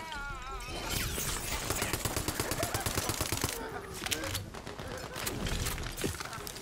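Rapid, BB-gun-like bursts of gunfire crackle from a video game in quick repeated volleys, with brief pauses between bursts and some talking faintly underneath.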